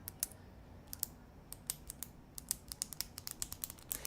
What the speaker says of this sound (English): Samsung built in a clicking mechanism in the pen for getting it out